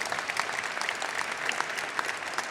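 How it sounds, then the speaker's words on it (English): Audience applause at a city LGBTQI+ advisory committee event, a steady dense wash of many hands clapping at moderate volume, heard alone without talk. "That's an applause line."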